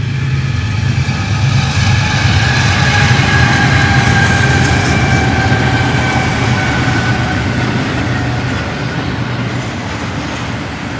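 A loud train rumbles past nearby, a continuous heavy roar with rattling wheels that holds steady and then begins to fade slightly.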